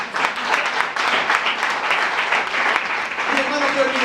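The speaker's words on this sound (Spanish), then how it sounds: "Dale un aplauso al Señor." A church congregation gives a dense, loud burst of applause lasting the whole few seconds, with a voice briefly audible toward the end.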